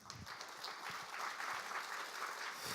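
Audience applause at a Korean volunteer-storytelling stage event, a steady wash of clapping from a crowd, moderately faint and continuous throughout, with no talk over it.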